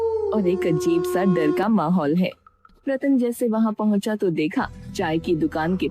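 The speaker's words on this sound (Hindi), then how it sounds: "शमशान के रास्ते गीदड़ कुत्ते की आवाज आ रही है" Dogs and jackals howl along a road to a cremation ground on a rainy night in a Hindi horror story, long wavering howls rising under steady narration, with a brief quieter pause midway.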